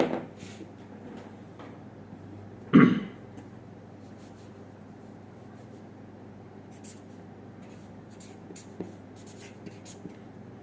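Numbers are written by hand with a pen on paper, giving faint scratchy strokes in short bursts, with one louder knock or cough partway through, against a quiet background.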